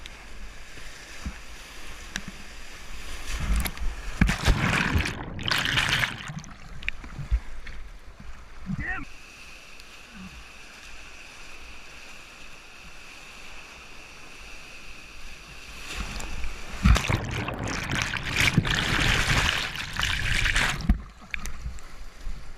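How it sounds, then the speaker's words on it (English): A canoe runs a short stretch of Class 2 river rapids, with bursts of rushing, splashing whitewater swelling loudly around the hull, then easing to a quieter, steady flow before surging again. "now I was entering the small stretch of Class 2 rapids that was on this river"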